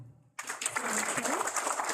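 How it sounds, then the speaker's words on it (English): Audience applause at a police department press conference, breaking out suddenly after a near-silent moment and continuing as a steady, dense wash of clapping. "Let's give them, yes, keep the applause going."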